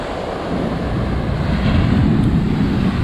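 Sea waves surging onto Lamai Beach on Koh Samui, Thailand, a continuous loud roar of surf with wind buffeting the microphone, swelling slightly stronger midway and holding steady to the end.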